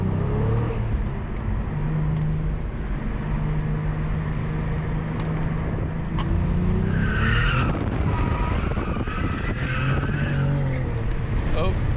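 A Cadillac CT4-V Blackwing drifts on a mountain road, its tires squealing and skidding in long wavering howls over constant engine and road roar, loud and close from inside the car.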